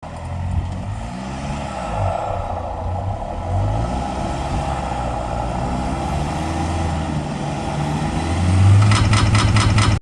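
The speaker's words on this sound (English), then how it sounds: "that was the sweet, sweet sound of my passenger front CV saying I'm an idiot." A 4WD's failing passenger front CV joint under a steady engine drone, breaking into a rapid, louder run of clicking near the end as the wheels turn. No talking.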